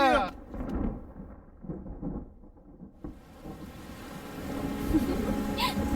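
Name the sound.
rain with thunder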